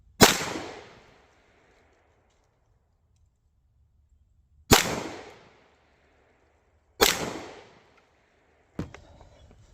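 Three sharp Glock 17 pistol shots ring out a couple of seconds apart, each with a quick decaying echo outdoors, followed by a fainter metallic impact near the end as a round strikes a steel target.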